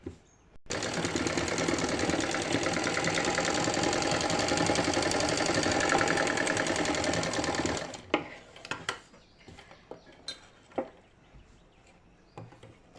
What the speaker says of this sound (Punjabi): ਇਸ ਤਰ੍ਹਾਂ ਆਪਾਂ ਪੈਰ ਪੈਰ ਦੀ ਸਲਾਈ ਲਗਾ ਲੈਣੀ ਹੈ